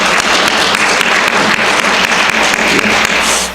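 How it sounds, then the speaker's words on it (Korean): A church congregation bursts into sustained applause during a Sunday worship service, a dense, steady clatter of many hands clapping together for several seconds, loud and close with no talking over it. "감사와 영광의 박수를 하나님 앞에"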